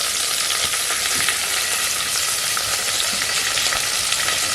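Onion and green chilli frying in a pan for coconut milk rice, a loud, dense, continuous sizzle with occasional spatula scrapes and pops, close by and without voices.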